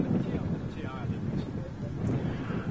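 Wind gusting into the microphone outdoors in New York, a continuous low rumbling buffet, loud and close, with faint voices beneath it.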